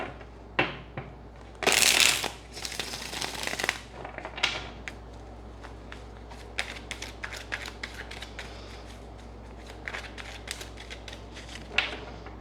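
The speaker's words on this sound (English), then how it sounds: "Let's get one shuffle." Tarot cards are shuffled by hand in a quiet room: a couple of quick, crisp riffling bursts, then softer scattered taps and snaps as the deck is squared and handled.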